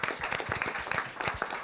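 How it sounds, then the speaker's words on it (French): Audience applause at a French talk on human and elite sports performance, a dense, steady patter of many hands clapping across the whole stretch with no voices over it. "vos applaudissements s'il vous plaît."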